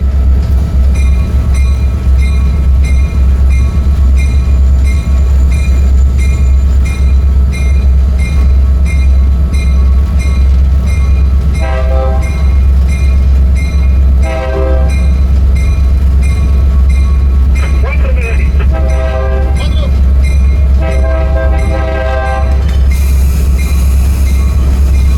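U-23B and SD-40 diesel locomotives on the Coahuila Durango railway produce a loud, constant low engine rumble. Intermittent metallic clanks and squeals from coupling and moving cars rise above it, with no talk.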